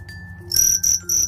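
Crickets kept for fighting chirp in short, sharp, high trilling bursts, three quick pulses close up against a faint background hum.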